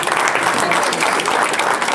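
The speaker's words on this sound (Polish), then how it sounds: "Brawa także dla mamy" Dense applause from a crowd at a kayak club season-summary gathering in Olsztyn, honoring a mother, continuous and loud clapping throughout the short moment.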